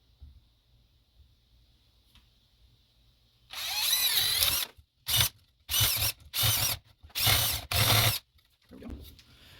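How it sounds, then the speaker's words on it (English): A power drill bores a half-moon hole into composite wood for an aquarium mangrove holder: one longer whining burst followed by five short, loud pulses of drilling, close up, with quiet gaps between and no speech. "all I'm going to do is pretty much drill a half moon right here"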